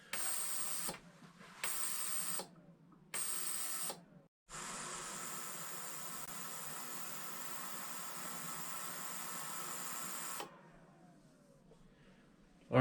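Ultrasonic vibratory cleaner working through a batch of 224 Valkyrie brass cases, giving off a steady, even hiss-like hum that runs continuously for several seconds after a few short on-off bursts.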